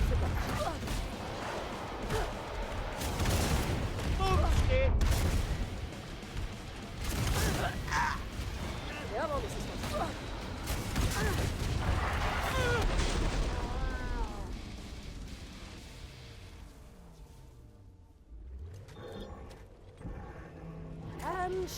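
Explosive blasts and gunfire from demolitionist weapons tearing into enemies in the video game Killing Floor 2, a dense run of loud bangs and mechanical clatter that thins out toward the end, with voices underneath.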